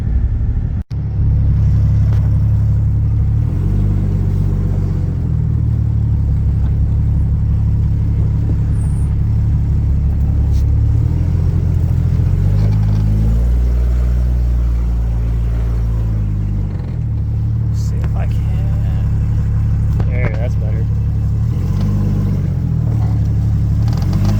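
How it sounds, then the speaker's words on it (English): A Jeep ZJ driving through a ditch gives off a loud, continuous low engine rumble that rises and falls with throttle, with occasional clatters and thumps from the body and suspension, and no talking. "let's go drive this thing through the ditch and see what happens"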